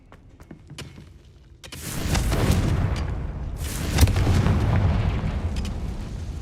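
A Confringo explosion spell cast in a Harry Potter video game: a quiet opening with a few small clicks, then a loud blast at about 1.7 s with a long rumbling roar, and a second burst near 4 s that swells the sustained roar.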